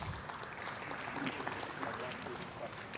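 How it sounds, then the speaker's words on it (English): An audience applauds as two panelists walk onto a stage at a literary talk, with even, moderately loud clapping running throughout and some voices mixed in. "Let us welcome both our panelists onto the stage with a huge round of applause."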